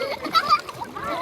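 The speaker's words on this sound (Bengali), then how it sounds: "তুমি সাঁতার দাও, হাত পা খালি ছড়াও" A young child splashes in the open water of a haor wetland while a parent holds her during a swimming lesson; short, close splashes are interleaved with a voice and talking.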